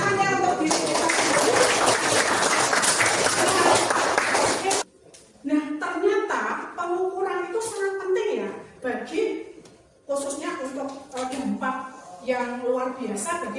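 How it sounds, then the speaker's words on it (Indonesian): A class of seventh-grade students applauds for nearly five seconds, a dense and fairly loud burst of clapping that stops abruptly before a person starts talking. "Tepuk tangannya untuk diri kita sendiri"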